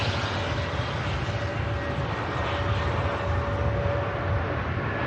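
An EasyJet airliner arriving from Zurich touches down on runway 05 left at Manchester Airport, its broad engine roar droning steadily from a distance.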